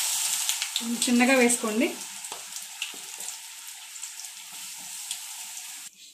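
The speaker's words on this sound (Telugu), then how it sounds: "ఇప్పుడు మనం ముక్కల్ని డీప్ ఫ్రై చేసుకోవాలి" Pieces of bitter gourd deep fry in hot oil, giving a bright, crackling sizzle that continues throughout, with a brief spoken instruction near the start and a few soft clinks.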